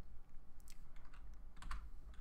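Fingers type on a computer keyboard in short, uneven bursts of light clicks, close and quiet over a low steady hum, with no talk.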